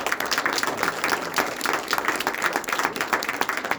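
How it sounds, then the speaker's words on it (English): A concert crowd at a youth jazz ensemble performance applauds guitarist Paul Corshane with loud, dense, continuous clapping that holds steady throughout. "let's give Paul a round of applause"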